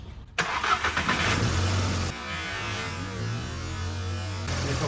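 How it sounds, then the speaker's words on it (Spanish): A Volkswagen Beetle engine cranks and catches, then settles into a steady, close mid-pitched idle with a low hum, running alone without voices. "echa a andar el motor"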